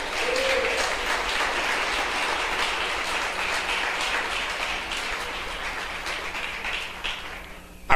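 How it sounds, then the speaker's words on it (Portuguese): A church congregation applauds during a sermon, with sustained, dense clapping from many hands that fills the room at an even level before tapering off near the end. "Você pode aplaudir o Eterno."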